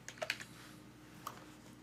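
Code is typed on a computer keyboard in a short, quiet burst of clicks, followed by a pause and one last keystroke. The sound is close and faint, with no voices.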